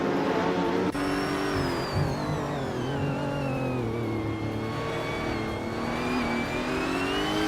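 Race car engines drone steadily in a racing video game, a loud sustained whine that slowly falls then climbs in pitch as the cars hold speed, without speech.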